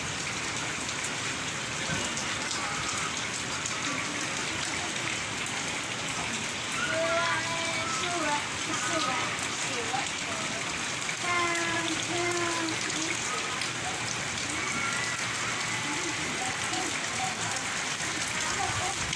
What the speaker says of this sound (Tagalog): Ay naku, ulan na naman. Lakas ng ulan.